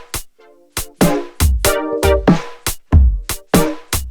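A programmed R&B drum beat with sharp, punchy kicks and snappy hits in a syncopated pattern, offbeat hi-hats turned down low beneath them, crisp and close with no voices.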